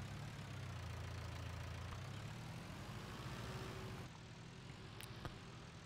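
A tractor engine idles steadily in a farming video game, a low droning rumble that holds even for about four seconds, then drops slightly quieter with a brief click near the end.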